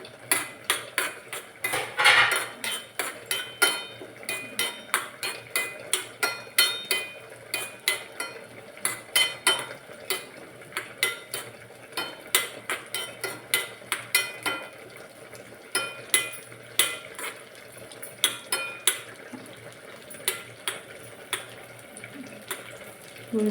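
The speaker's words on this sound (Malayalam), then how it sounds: "അതിലേക്ക് കുറച്ച് ഗ്രേപ്സ് ആഡ് ചെയ്യുന്നുണ്ട്. ഗ്രേപ്സ് ആഡ് ചെയ്ത് കൊടുക്കാം." Grapes are stirred in a cooking pan, a metal utensil scraping and clinking in a steady, repeated rhythm, close and fairly loud, with no talking.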